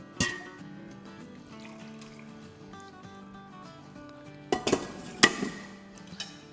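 A spoon stirs sugar into an aam pana mango drink mixture, giving a few sharp clinks against the vessel near the end over steady background music.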